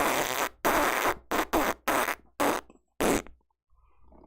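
A person farts right into a microphone in a series of loud, close, raspy bursts, about six of them, broken by short pauses, with no talking.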